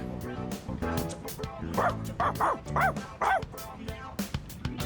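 Koromaru, the dog in Persona 3 Reload, lets out a run of excited barks and yips, close and lively, over soft background music.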